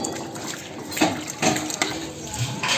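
Tap water runs and splashes into a container in a home setting, a steady close pour with a few louder gushes and sloshes.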